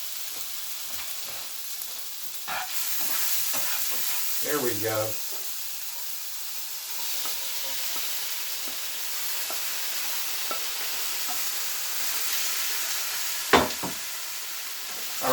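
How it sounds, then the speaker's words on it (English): Fajita vegetables hit a hot pan with juices in it, bursting into a loud steady sizzle with scraping stir strokes, while a voice talks briefly over the frying. "We're going to take our veggies and just pop them right in there."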